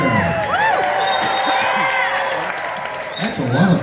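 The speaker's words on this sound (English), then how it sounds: "Look at that crowd. That's a lot of people out there." Large convention audience at a Star Trek panel in Las Vegas, cheering, whooping and clapping in a loud, sustained roar with scattered shouts and voices rising throughout.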